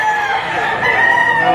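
Chickens at a busy poultry market in Lipa, Batangas, with loud roosters crowing over one another continuously and hens clucking, a dense chorus of fowl filling the space throughout.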